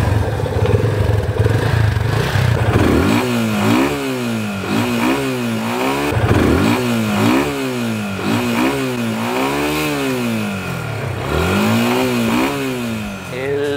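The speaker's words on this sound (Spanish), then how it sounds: "vamos a encender la moto para que ustedes escuchen qué tal suena" A Yamaha FZ-25 250cc motorcycle engine idles and revs in repeated rising and falling bursts, close and loud, with a throaty mechanical rumble.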